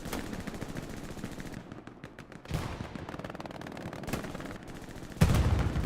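Machine-gun fire in the World War II shooter Hell Let Loose, heard as sustained rapid bursts of automatic fire with brief gaps between volleys, loud and close throughout.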